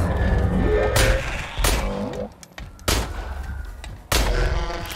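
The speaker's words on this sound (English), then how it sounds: "let's see how good this pistol is against the robots" Pistol shots fired at robots in the game INDUSTRIA ring out as four loud, separate blasts with ringing tails, spaced roughly a second apart against a steady low game ambience.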